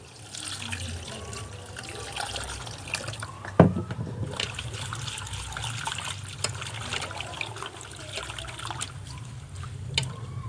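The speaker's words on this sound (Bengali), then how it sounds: "দু তিনবার মতো ধুয়ে নিতে হবে। আমি আবার একবার ধুয়ে নেব।" Rainy-season herb leaves (shwet berela, chini dana leaves) rinsed in water at a sink, with a steady trickle and faucet flow, soft sloshing and one sharp clink partway through, continuous and fairly close.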